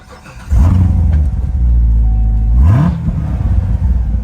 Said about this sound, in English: now the car will start.